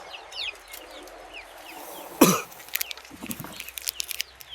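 Australorp chickens cluck and call in a backyard coop, a scatter of short nearby clucks with one louder squawk midway and busier clucking toward the end.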